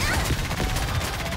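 Rapid missile and gunfire barrage in the game NIKKE, a dense burst of overlapping blasts filling the moment with no pause.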